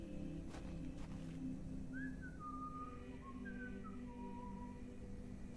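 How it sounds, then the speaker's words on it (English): A thin melodic whistle drifts through a Victorian England horror game, a few short gliding phrases rising and falling over a steady low ambient drone, faint and somewhat distant. "Listen out for the whistling."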